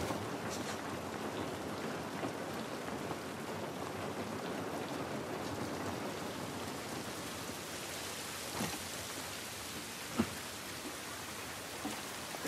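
Steady rain falling outdoors in the video game The Last of Us Part I, a soft, even hiss of drops with a few sharper splats toward the end, fairly faint and uninterrupted by voices.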